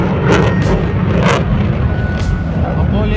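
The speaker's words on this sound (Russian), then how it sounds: "Один двигатель российского МИГа, это же МИГ, насколько я понимаю, звучит громче, чем весь пилотон Формулы-1" A Russian MiG jet roars overhead during a display flyover at the Sochi Formula 1 weekend, a loud, continuous broadband engine rumble with surging swells, people talking faintly underneath.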